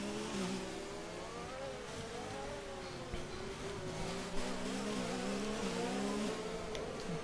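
F1 2019 race cars circle the Monaco Grand Prix track under a safety car, engines droning steadily with shifting pitch and occasional revs, several cars audible at once at moderate loudness.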